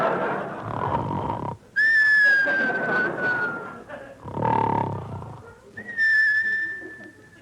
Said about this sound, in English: Now come the whistles.